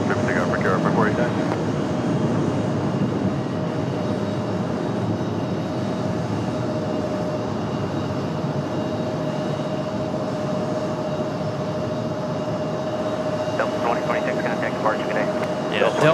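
An airliner departs from the RDU runway, a steady jet roar holding for the whole stretch at moderate distance, with people talking over it and a brief radio chatter near the start and end.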